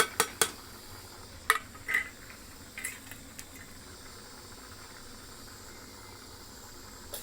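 A spoon knocks against a pot while rice and whole spices (cinnamon, cardamom, bay leaf, chilli) are stirred for khichuri, giving a few sharp metallic clinks early, then a faint steamy hiss.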